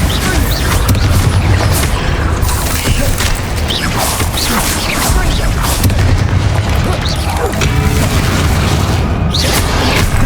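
Booming spell blasts and crashes from the Bombarda explosion spell in the Hogwarts Legacy video game, loud and continuous over dense combat effects, with several impacts and bursts throughout.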